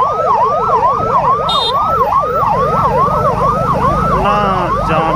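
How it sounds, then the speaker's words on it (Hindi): Ambulance stuck in traffic, its siren wailing continuously in a steady rising-and-falling pattern on a road through Shyampur Kangri forest near the Chandi Devi footpath, with traffic rumble beneath and a brief extra tone partway through. "देखिए आप एम्बुलेंस भी फंस गए"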